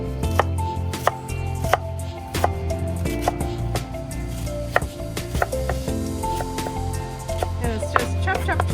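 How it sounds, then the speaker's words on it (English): A knife chops cabbage on a cutting board in quick, irregular strokes, each a sharp close knock, with faint background tones beneath. "And it's just chop, chop, chop."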